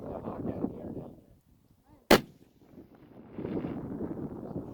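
A single sharp, loud crack from a 340 Weatherby rifle at an outdoor range, set between stretches of blustery wind buffeting the microphone.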